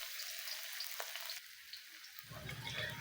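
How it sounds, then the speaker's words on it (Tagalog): Sliced garlic hitting hot oil in a frying pan gives a steady hiss and crackle, easing off midway, then rising again with a low rumble toward the end, for a squid and string bean dish. "kapag mainit na ang mantika, ilagay na natin ang hiniwang bawang"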